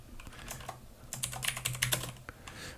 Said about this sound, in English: I gotta type in the name.